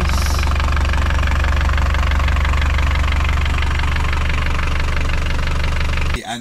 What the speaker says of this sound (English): I'm going to start the engine, let it run with the cap off